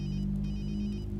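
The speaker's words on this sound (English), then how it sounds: "pick up the phone" An in-game phone rings during a Watch Dogs 2 cutscene, a repeating electronic tone pattern in quick pulses over a low steady background hum.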